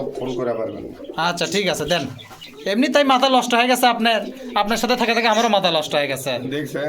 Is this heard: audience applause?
no